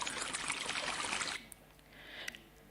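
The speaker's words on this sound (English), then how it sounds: "At the entrance, you will hear the sound of flowing water." Flowing water at the entrance of an interior space, a steady broad rush that stops abruptly partway, leaving faint dripping and quiet room tone.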